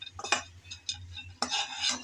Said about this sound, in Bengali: অনবরত কিন্তু নেড়েচেড়ে মিশিয়ে নিতে হবে, না হলে কিন্তু নিচে লেগে যাওয়ার সম্ভাবনা থাকতে পারে।